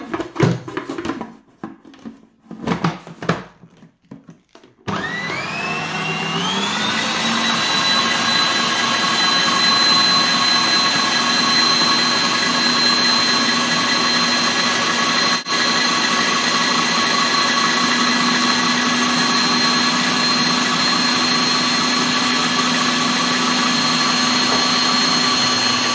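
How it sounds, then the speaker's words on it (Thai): An electric mixer blending milk and butter for cake batter switches on after a few seconds of handling noise, then runs with a loud, steady whirring whine that holds unbroken to the end. "ปั่นให้มันละลายกัน"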